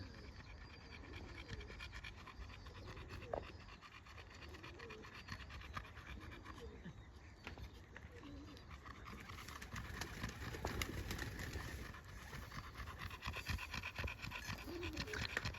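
A dog with a high proportion of Kangal blood pants steadily and close by for the whole stretch, with scratchy movement and background noise outdoors. No one speaks.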